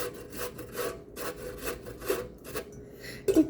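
Zucchini rubbed against a sharp grater makes steady, rhythmic rasping strokes, close and continuous, with a few louder scrapes near the end and no talk.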